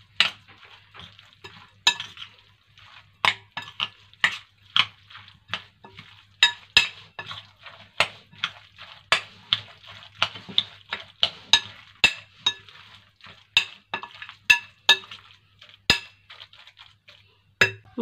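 A spoon or whisk stirs and taps a mixture in a bowl for a quick light meal while a frying pan heats nearby, giving a steady run of clinks and scrapes, close and clear with no talk.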